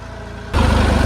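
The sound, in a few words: tractor engine ploughing soil in L4 gear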